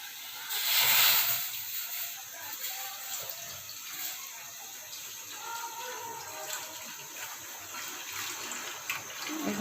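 Milk poured into a kadai pan on the stove, a soft hissing, splashing stream that swells loudly near the start and then settles into a quieter steady trickle.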